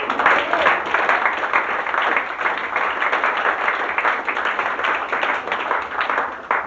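Sustained audience clapping at a fashion show aboard a cruise, steady and fairly loud, a dense crowd of hands patting on without letting up for several seconds.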